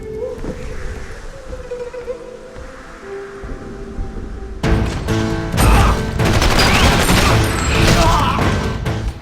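Tommy gun fire in the Wii game Red Steel 2 bursts in after a quieter stretch of ambient hum, turning into a dense, loud, continuous rattle of automatic shots with crashing impacts that runs to the end.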